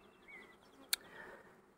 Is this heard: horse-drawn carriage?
no